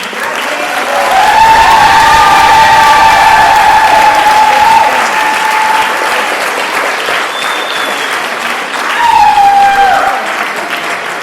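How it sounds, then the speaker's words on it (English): Sustained applause fills a 2023 Cambridge Community Learning Center graduation and awards ceremony as the audience claps for the graduates, loud and steady for about ten seconds, with a few brief voices or cheers rising above it. "one more round of applause for our graduates"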